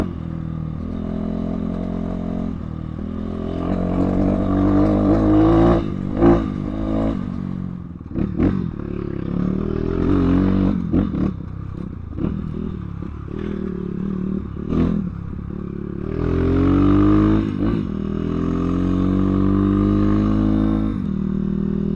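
Kayo K6-EFI four-stroke dirt bike engine revving while being ridden off-road, loud and close, rising and falling throttle with gear changes, clattering and scraping of terrain throughout.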